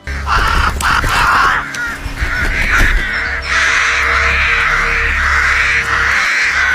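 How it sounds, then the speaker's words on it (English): Loud, continuous cawing from several crows, overlapping harsh calls filling the whole stretch without pause. "heard the crows cawing again at this time."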